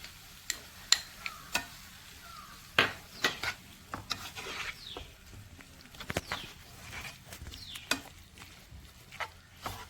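A spoon stirs gooseberry curry mixed with melted jaggery in a pan, giving soft scraping and irregular light clinks against the pot, close and fairly quiet with no talking.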